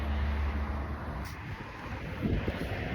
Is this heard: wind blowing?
yes